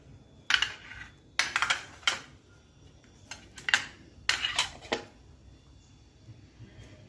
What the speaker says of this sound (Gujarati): હવે એમાં આપણે રાઈના કુરિયા પણ મૂકી દઈશું